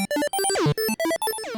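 A Korg Monologue monophonic analogue synthesizer plays one of its built-in preset sequences, a fast run of bright, buzzy staccato notes that jump in pitch with a few swooping downward glides, loud and alone.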